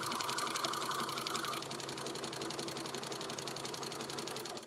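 A sewing machine zigzag-stitches a quilt-as-you-go quilt in one continuous run, a fast steady needle rhythm with a brief higher whine early on, close and without talk.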